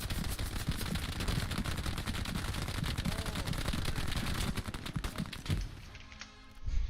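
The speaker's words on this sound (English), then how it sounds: "MG, fire through that area. Full fire, just shoot, shoot, shoot." Rapid machine gun fire in a video game rattles continuously in dense, close, loud bursts for several seconds before briefly easing, then one more sharp crack lands at the end.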